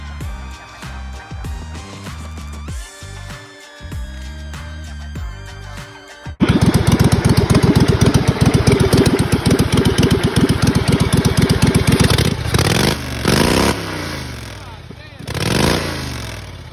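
A homemade racing lawn mower engine cranks, sputters and catches, then runs loudly close up at a rapid, uneven idle with a few revs near the end.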